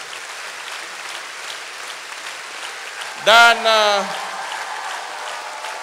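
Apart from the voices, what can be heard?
applause for the college principals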